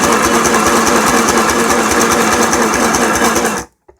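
A Hema sewing machine runs a zigzag stitch at steady speed, its loud rapid mechanical chatter continuing alone and close before stopping abruptly near the end.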